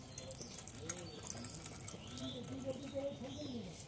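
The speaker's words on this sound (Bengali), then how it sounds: "এবার আমি এই নারকেলের দুধটা বের করে নেব।" Coconut milk is squeezed by hand from grated coconut for making narkel sandesh, giving a faint, steady trickle and drip of liquid beneath quiet talking.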